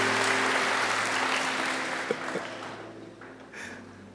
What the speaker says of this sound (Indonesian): Tepuk tangan bagilah kita.